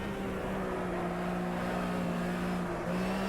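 A Porsche 911 RSR 3.0 racing at Johannesburg in the AMS racing game, a steady, loud engine drone held at high revs with a slight pitch dip near the end.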